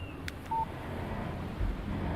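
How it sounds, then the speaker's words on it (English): A phone text-message alert from the video game Alan Wake Remastered: a single short electronic beep over a low, steady background rumble, with a couple of faint clicks nearby. "Text message from Barry."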